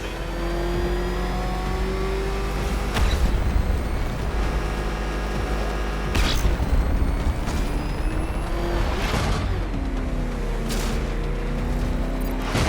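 The Batmobile's engine revs in Batman: Arkham Knight, a loud, continuous growl whose pitch climbs and falls through several surges, with sharp transient bursts mixed in and no talking.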